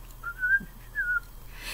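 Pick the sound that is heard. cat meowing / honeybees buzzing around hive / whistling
whistling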